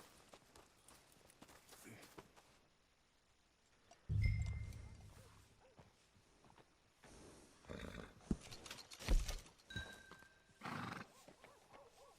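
A horse in the Red Dead Redemption 2 game clip-clops on hooves and gives a loud whinny near the middle, with further snorts and hoof sounds around it and a few game voices speaking.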